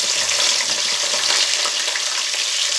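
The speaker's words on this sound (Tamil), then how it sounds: "வெட்டி வச்சுருந்த வெங்காயத்தை போட்டுக்குவோம்" Chopped onions fry in hot oil in a pan, giving a dense, loud, continuous sizzle close up, with faint stirring beneath it.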